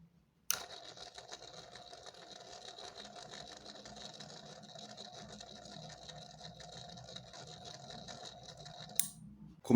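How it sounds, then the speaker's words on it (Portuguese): The small motor inside an old 70 cm musical Santa Claus toy, which has a loose part, whirs steadily and closely at low volume, framed by a sharp click at the start and another near the end. "o motor dele está funcionando"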